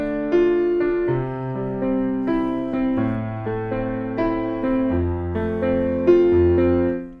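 Sustained piano notes rise and fall in flowing broken-chord arpeggio patterns over low bass tones, played smoothly and continuously without any voices.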